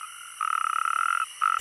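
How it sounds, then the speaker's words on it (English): A loud, steady male natterjack toad trill rings out in long rasping bursts with a short gap, close by, over a faint chorus of other calls, in Iberia during the rainy season. "male natterjack toads claim their territories"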